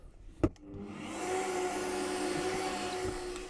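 A power drill spins up and bores a 1/4 inch hole in wood for a DIY yarn winder, a sharp knock followed by a steady, loud whirring drone that continues throughout with no talking.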